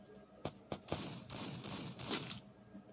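Gunfire in a mobile shooting game, three sharp shots spaced apart followed by a denser burst of rapid fire, fairly faint and compressed.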